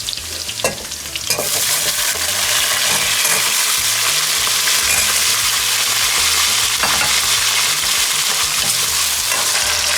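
Potatoes drop into hot oil with garlic and chilies for a carrot, potato and fenugreek curry, and a loud, steady sizzle of frying follows, with stirring and clinks of the spoon against the pan.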